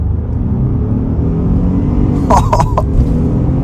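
A 2023 Ford F-150 XLT FX4 pickup launches hard off the line in sport mode and four-wheel drive. Its engine gives a steady, loud low rumble throughout, and a few sharp, bright bursts break through near the middle.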